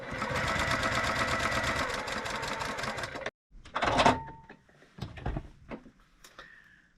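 A sewing machine runs steadily for about three seconds while string piecing strips for a green quilt block, then stops. Clicks and handling noises of fabric and the machine follow.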